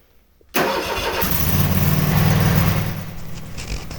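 A snow blower engine kicks in abruptly and runs loud and close, a steady, rough mid-pitched drone that swells and then eases slightly, with no talking over it.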